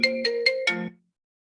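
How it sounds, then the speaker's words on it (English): A loud phone ringtone plays four quick electronic chimes in an even rhythm, close and clear, then cuts off abruptly into silence. "I hope you are not hearing that like super loud ringtone right now."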